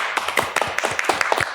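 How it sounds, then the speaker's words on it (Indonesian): Clapping from a small audience, a scattering of irregular, fairly close claps over about a second and a half, with no voices over it. "Saya berikan tepuk tangan untuk kalian."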